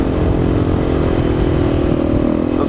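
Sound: supermoto motorcycle engine revving during wheelies

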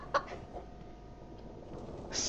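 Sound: chicken clucking in the video game Evil Nun

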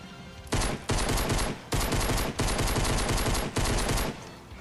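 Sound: gunfire in a video game

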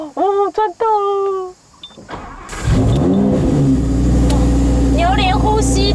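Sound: Lamborghini Gallardo engine starting

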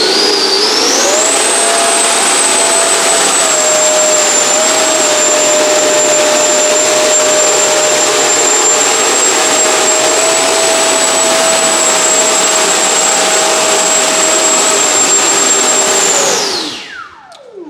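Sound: FMS BAE Hawk 80mm RC jet engine running up

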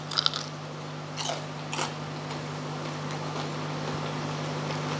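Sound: crunchy bite into a crispy lacha aloo tikki

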